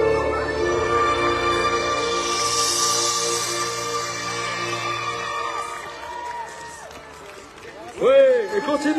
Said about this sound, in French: continuez d'applaudir comme vous le faites